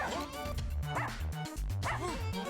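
Cartoonish dogs barking and yipping in the Russian Subway Dogs video game, several quick bow-wows and whimpers over bouncy game music, steady and close throughout.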